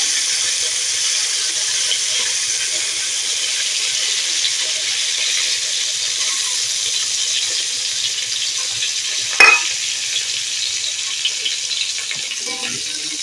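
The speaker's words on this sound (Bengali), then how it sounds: "মাছটা আমি উল্টে ভেজে নেবো ভালো করে।" A koi fish frying in hot oil in a home kitchen gives a steady, close sizzle that runs throughout, with one sharp clatter near the end.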